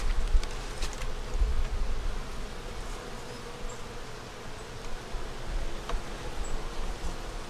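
Honey bees buzz around an opened hive, a dense, steady hum of many insects close by, with occasional faint rustles and knocks from handling the hive frames and no voices.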